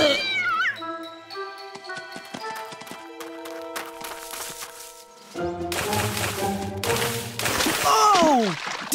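A cartoon cat from an animated children's episode meows in short, clear calls that rise and fall, heard among music and sound effects that grow busier toward the end.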